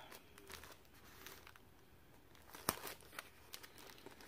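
Clear tape pulled and torn, then pressed down during a diamond painting project: quiet crinkling and scratchy pulls with one sharp tearing snap and a few smaller ticks after it.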